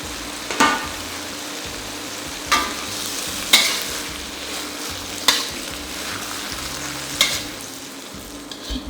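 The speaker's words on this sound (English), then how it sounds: "Cook it for about 1 minute or 2, depending on how crispy or tender you would like it to be." Water spinach (morning glory) stir-fries in a hot pan for Thai pad pak boong. A constant loud sizzle runs throughout, broken by about five sharp scraping stirs at irregular intervals.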